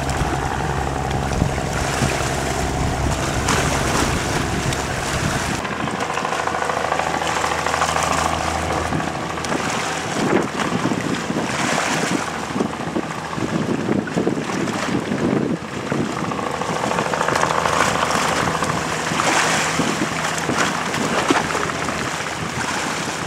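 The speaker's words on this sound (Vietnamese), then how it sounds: "Quá đây con thuyền nhỏ đang vô các bạn." A small wooden fishing boat heads in on a stormy sea, a steady engine drone under heavy gusting wind and crashing waves, loud and continuous throughout.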